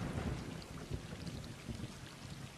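Steady rain hisses in the video game Stray while low thunder rumbles faintly underneath, continuous and fairly quiet, with no voices.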